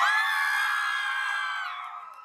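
A high school homecoming coronation crowd screams and cheers in one sustained, shrill burst that gradually fades over about two seconds.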